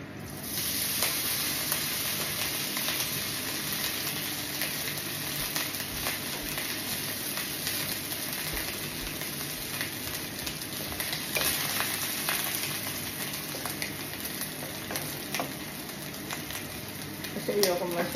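Garlic sizzles steadily in hot oil in a pan, being fried as the base for Filipino garlic fried rice, a constant close crackling hiss over the whole stretch with a person talking over it.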